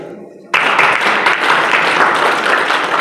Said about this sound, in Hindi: एक बार हम चाहेंगे उस बेटी के लिए हम सब ताली बजाएं।